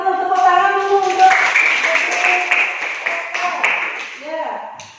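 Pupils in a Hindu religious education classroom clap for a classmate: a short burst of close clapping mixed with children's voices and a teacher speaking.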